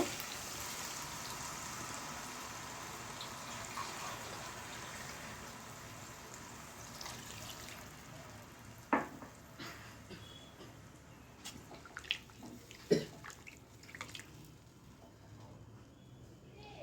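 Water is added to a pan of rohu fish cooking with potato, cauliflower and tomato, making a faint, steady hiss and sizzle with a few soft clinks near the end.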